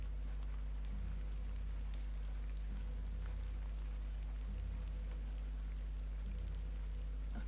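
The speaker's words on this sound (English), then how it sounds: "Let's get out of the rain." Rain falls steadily in the point-and-click horror game The Excavation of Hob's Barrow, a soft continuous patter over a strong low hum, with a few faint periodic thumps and no talking.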